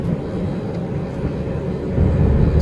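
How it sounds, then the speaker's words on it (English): A manual-transmission car's engine, in fourth gear, accelerating with RPM rising toward 2,500; a steady, close low drone that swells louder near the end, with no talking. "as I'm accelerating, the RPM is going up"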